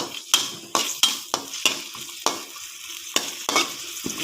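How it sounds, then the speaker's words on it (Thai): Chili and garlic stir-frying in a little oil for basil shrimp, crisp spatula strikes against a metal pan landing about every half second over a hissing sizzle, close and loud. "แล้วก็ผัดพริกกับกระเทียมให้มันหอมเข้ากันนะคะ"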